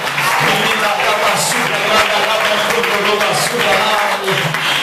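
A church congregation claps together during a worship service, with loud, dense clapping under talk and voices throughout.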